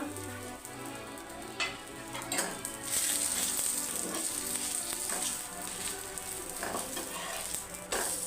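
A ready-made dhaba-style parotta fries in a little oil on a pan in a home kitchen, giving a continuous close sizzle with occasional sharper crackles and scrapes.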